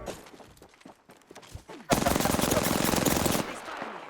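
Rapid automatic gunfire from a weapon in the video game Apex Legends bursts in after a few scattered shots, a loud sustained volley lasting about a second and a half.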